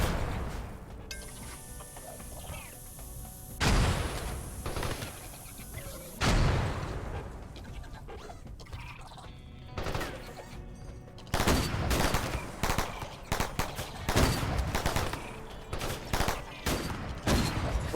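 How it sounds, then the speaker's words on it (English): Grenade launchers fire in a RimWorld colony battle, with loud bursts of explosive blasts and rattling gunfire in several clusters, separated by quieter stretches of battle noise. "Fire the grenade launchers."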